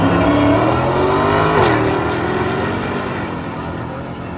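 A Hemi-powered drag race car makes a test pass at an NMCA event. Its engine roars loud and near, climbs in pitch, shifts once partway through, then fades slightly as it pulls away.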